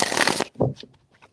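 Tarot cards are shuffled in one brisk riffle, close and loud, followed by a few softer taps and slides as the deck settles.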